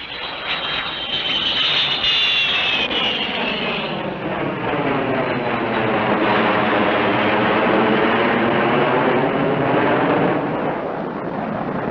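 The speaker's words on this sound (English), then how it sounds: "Bring that plane in, do you hear me? Throttle down and bring it in." A propeller airplane engine roars loudly and close as the plane dives in a 1968 film, with a sustained rising and falling engine drone and a high whine fading out in the first seconds.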